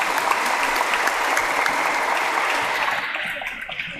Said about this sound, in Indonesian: Mari tolong berikan tepuk tangan untuk mereka.